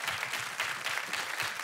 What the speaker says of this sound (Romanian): Aplauze pentru juni.